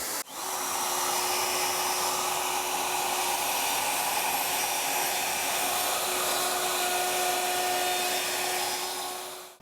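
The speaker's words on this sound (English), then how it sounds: "Let's get the router out and get after it." Handheld router cutting a recess into a guitar body, a steady high-pitched motor whine with a faint tonal hum that starts abruptly, holds level for several seconds, then cuts off.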